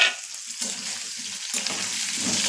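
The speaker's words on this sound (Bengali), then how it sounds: "দিয়ে আলুটা ফ্রাই করব, হালকা ফ্রাই করব" Potatoes lightly fry in a pan of hot oil, giving an even, close sizzling hiss that holds steady throughout without any speech.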